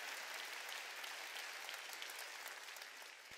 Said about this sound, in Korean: 깨달은 사람만 박수치라.